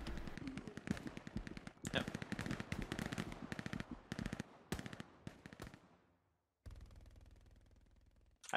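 Rapid machine-gun and rifle fire in the WWII shooter Hell Let Loose, loud bursts of close gunshots in quick succession, then a brief silence and a duller, quieter stretch afterward.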